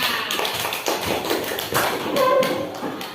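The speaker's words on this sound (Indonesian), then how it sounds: "ya tepuk tangan untuk kelompok kita" A discussion group applauds in a classroom, a dense burst of many hands clapping at close range for about three seconds with no talk over it.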